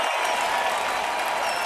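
Steady, dense applause from a seated audience at a live session, loud and sustained throughout with a faint crowd murmur and no clear speech.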